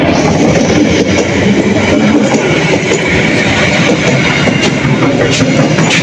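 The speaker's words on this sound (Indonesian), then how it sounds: "Nah, ini keretanya mulai jalan." Steady, loud rumble of the KA Serayu economy-class passenger train getting underway at night, with continuous low mechanical noise and faint rail clatter throughout.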